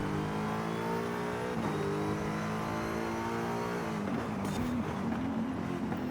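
An S1 class race car engine in Forza Horizon 5 drones steadily and loud, its pitch holding, then dipping and climbing again as it revs through gears near the end.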